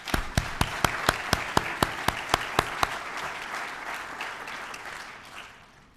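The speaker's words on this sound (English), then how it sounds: "You are the difference makers, and you deserve the final round of applause." Audience applause at a city State of the City event fills the room, with a few sharp, evenly spaced claps standing out early before the clapping thins and fades toward the end.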